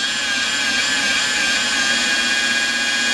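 A pad washer spins a buffing pad at about 1500 RPM, making a continuous loud, steady mechanical whine and whirr with no change in pitch and no talking.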